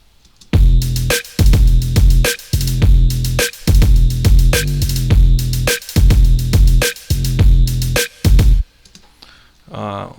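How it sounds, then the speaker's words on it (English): Deep sub bass notes from a Splice sample, played through a sampler, throb loud and low in short repeating phrases under a punchy electronic beat with sharp transients, ending in a brief quiet tail. "Sub bass, it was the sample from Splice. Then I added to the simpler and just played the notes I wanted."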